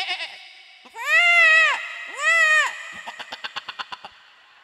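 A comedian on stage at a live comedy show imitates a goat with his voice: two long, wavering, nasal bleats, then a quick stuttering run of short bleat pulses that fade out.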